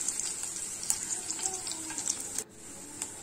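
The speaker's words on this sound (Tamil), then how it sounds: "பூண்டு நல்லா ஃப்ரை ஆகணும்." Crushed garlic frying in a pan makes a steady bright sizzle with scattered small pops and crackles, then briefly quietens before the hiss resumes, with no talking.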